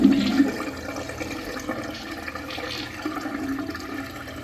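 A second-generation Kohler Darfield urinal rinses its bowl through rim jets, producing a steady close rush of flushing water that starts strongest and settles into a continuous wash without speech.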